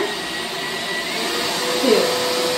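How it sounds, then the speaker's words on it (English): A portable mini work vacuum runs with a steady, loud motor whine and airy rush, holding constant throughout, with a brief faint voice-like sound near the end. "I feel like there isn't another really easy to use portable vacuum"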